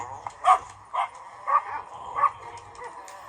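A dog gives a run of short yips and whimpering barks, about five bursts spaced roughly half a second apart, at moderate distance and fairly loud, with faint background murmur.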